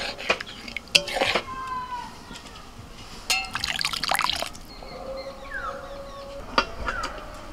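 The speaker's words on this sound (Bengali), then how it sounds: "যে মশলাটা আছে এর মধ্যে আমি জল দিয়ে দেব।" Water is poured into a cooked spice masala for restaurant-style chicken biryani, making a close, uneven trickling and splashing that comes in a few separate bursts over a light background.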